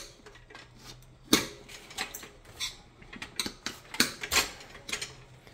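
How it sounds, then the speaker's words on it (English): A dirt bike tire is being knocked off its bead with the rotor side up, giving irregular sharp metallic knocks and clanks, one loud strike followed by a rapid cluster of close hits. "He's knocking this off the bead, one side, then we're going to flip it over, knock the other side off"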